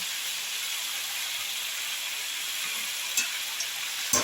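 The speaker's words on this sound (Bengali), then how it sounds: "এইবার আমি এর মধ্যে দিয়ে দেবো কেটে রাখা, ভালো করে ধুয়ে রাখা শাকগুলো।" Chopped, washed fresh greens go into a pan of cooking vegetables for a Bengali prawn and pumpkin-leaf chochchori, giving a steady, close sizzle and hiss with a few faint clinks near the end and no voices.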